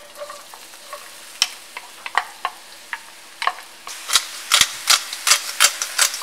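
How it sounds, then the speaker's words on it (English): Onions hit hot oil in a skillet, sizzling steadily while a utensil scrapes and stirs in quick, regular strokes that grow louder toward the end. "So I'm going to start with a hot skillet. Going to add in a little bit of oil. And then I'm going to put some onions."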